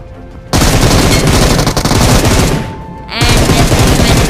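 Automatic gunfire in the mobile battle royale game BGMI rings out as loud, sustained rapid bursts that fill nearly the whole stretch, with a short lull before firing resumes.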